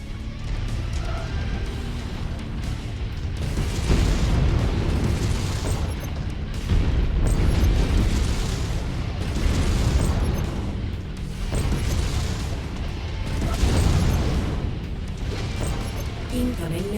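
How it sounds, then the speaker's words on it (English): Missile explosions in Mechwarrior 5 on Xbox One roll on as a steady, loud barrage of deep booms and rumbling blasts that swell and fade in waves for the whole stretch. "Incoming missile."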